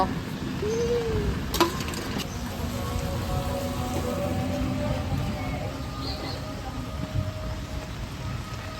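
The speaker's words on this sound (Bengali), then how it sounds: "ফুচকা খেতে এসে ভীষণ বৃষ্টি পড়ছে, প্রচন্ড বৃষ্টি পড়ছে" Heavy rain pours steadily on surfaces outdoors, a dense continuous hiss that runs throughout, with a brief sharp knock and a faint distant tone briefly above it.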